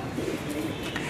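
A black pigeon cooing close by, a short soft throaty coo with a low rolling tone, heard alone.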